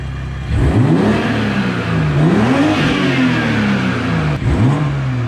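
A 2021 Toyota A90 Supra fitted with an MST intake is revved hard several times. The engine rises and falls in loud, close surges with an intake whoosh over the growl.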